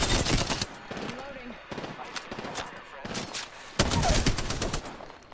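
Rapid automatic gunfire in the video game Apex Legends rattles in dense, loud bursts with short gaps between them, and voices talk underneath.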